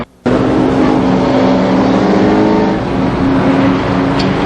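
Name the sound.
race cars passing on a speedway oval track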